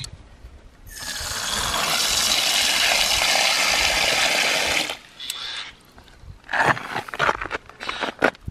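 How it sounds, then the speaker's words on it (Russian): Water pours steadily in a broad splashing rush for about four seconds, then stops, followed by scattered clinks and small movements, as water is poured out for birds. "Надо налить воды птичкам."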